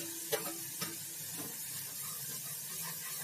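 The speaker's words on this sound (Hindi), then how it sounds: "और इसको गोल्डन ब्राउन होने तक प्याज को पकाएंगे।" Onions and raw banana pieces frying with leftover spiced masala in a pan, a soft steady sizzle with a couple of brief stirring clinks near the start.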